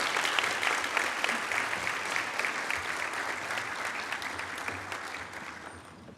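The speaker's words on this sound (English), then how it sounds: "One more round of applause for all of these scholar leaders." Sustained audience applause honoring sophomore student leaders at a university leadership awards program, a dense steady wash of many hands clapping at moderate volume for about six seconds, with faint voices underneath.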